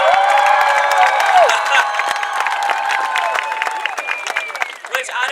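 Loud applause and cheering from a large graduation crowd after a valedictorian speech, sustained clapping with occasional whoops, fading slightly toward the end.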